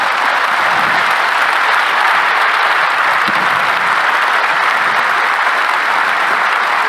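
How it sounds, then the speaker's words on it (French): An audience at a business conference bursts into sustained, dense applause, loud and even throughout with no break. "Vous pouvez les applaudir tous les trois pour cette question."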